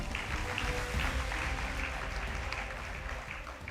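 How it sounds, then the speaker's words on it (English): Audience applauds at a school debate between Alliance High School and Waa Boys High School, a steady, dense clapping that holds at an even level for the whole stretch without any talk over it. "A round of applause for them."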